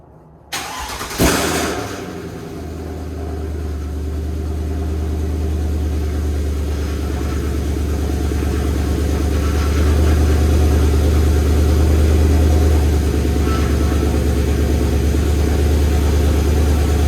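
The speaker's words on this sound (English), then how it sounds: "I'm going to start it up and try to bleed the brake or bleed the power steering." A Mercedes C-Class engine cranks and fires up, then settles into a steady, loud idle that holds a low even drone for the rest of the span.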